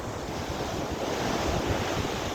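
Sea waves at the seaside wash in a continuous, close rushing surf with strong wind buffeting the microphone, no voices heard.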